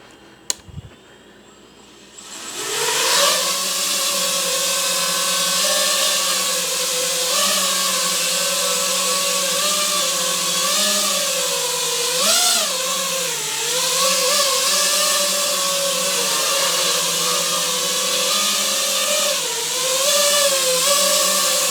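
An FPV quadcopter built on an ImpulseRC Apex frame spins its motors at idle up after a brief click, holding a loud steady high-pitched whine with slight pitch wobbles and no talk.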